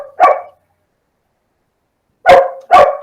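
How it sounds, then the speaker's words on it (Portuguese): A dog barks three times in a home, one sharp bark followed after a pause by two quick loud barks close by, with silence between. "Eita, o cachorro tá latindo aqui."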